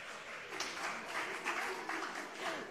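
Quiet, distant audience applause for a contestant at a Ghanaian TV talent show, a steady patter of many hands clapping with no voices over it.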